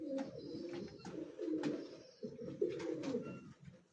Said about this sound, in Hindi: कुछ कबूतर वैसे ऐसी कर रही है